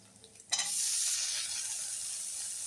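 Ginger, garlic and tomato drop into hot oil in a pan while cooking masoor dal. A sudden loud sizzle bursts up and settles into a steady, close frying hiss with light stirring.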